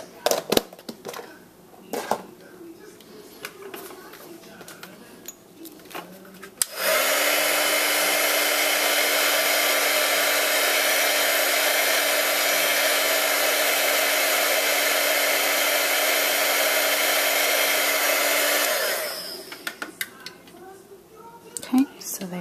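A heat tool blows a steady, loud whooshing hum for about twelve seconds while it melts silver embossing powder on a card, with quieter clicks and handling noises before and after.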